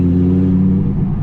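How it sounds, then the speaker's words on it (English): Audi R8 V10 Plus idling with its exhaust valves open, a steady deep low rumble that holds even and loud throughout, easing slightly near the end. "you can literally just choose over here, I want my exhaust on or off. So right now I can have it on"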